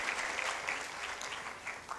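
Sustained, dense applause from an audience at an anniversary research conference opening ceremony, steady and fairly loud throughout, with no talking over it.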